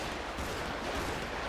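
Dense, continuous gunfire in a video game rattles throughout, a noisy barrage of overlapping shots at steady loudness with no voices over it.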